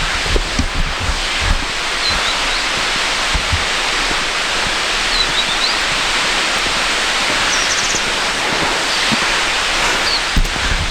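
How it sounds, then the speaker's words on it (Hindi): Birthi Falls in Munsiyari, Uttarakhand, a tall waterfall, roars as a steady loud rush of falling water, with a few faint thumps and rustles close by. "तो मेरे लेफ़्ट में वो बिरथी फॉल्स है, बस थोड़ा सा दूर और।"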